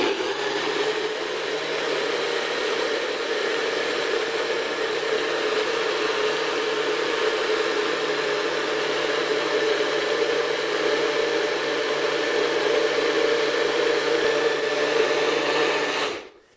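A NutriBullet high-speed blender with extractor blades runs close and loud in a steady whirring drone for about sixteen seconds, then cuts off abruptly.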